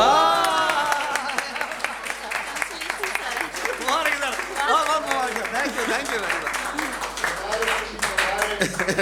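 Audience at a Hindi poetry recital (kavi sammelan) applauds, steady crowd clapping throughout with a voice speaking over it.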